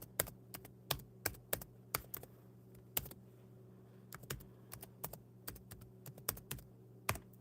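Rapid typing on a computer keyboard while an email address is entered, with irregular bursts of sharp, close key clicks and short pauses between them, no talking.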